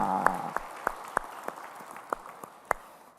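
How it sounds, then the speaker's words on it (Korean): Scattered, fairly faint hand claps ring out at roughly even intervals in a church during a Sunday worship service, a few sharp claps over a soft background. "우리 찬양을 받으실 주님께 영광의 박수 올리겠습니다."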